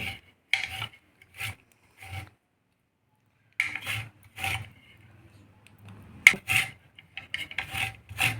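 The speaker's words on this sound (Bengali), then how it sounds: "ছোট একটা গ্রেটার দিয়ে গ্রেট করে নিচ্ছি এর জেসটা লাগবে" A small handheld grater rasps orange peel for zest in short repeated strokes, a few bursts then a pause and another run of quick rubbing scrapes, close up, with faint kitchen clatter and no talk.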